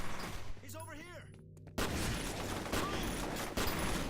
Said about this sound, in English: seeing an enemy explode after a shotgun blast always makes me feel all warm and fuzzy inside